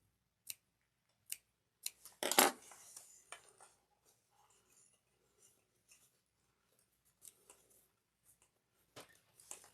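Scissors snip into a fabric seam allowance on a cross-body bag, giving several sharp, quiet cuts spaced apart, with one longer burst of snipping and then faint scattered clicks.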